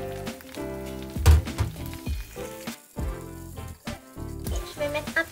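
Minced meat sizzles and spits in a hot pan on the stove, a steady frying crackle beneath prominent tonal background music.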